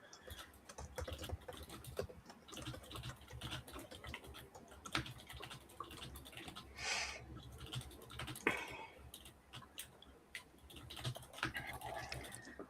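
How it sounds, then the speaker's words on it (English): Computer keyboard typing for database entries, quick irregular key clicks in short bursts, fairly quiet and close, with occasional louder taps. "I'm doing a lot of typing too for these database entries."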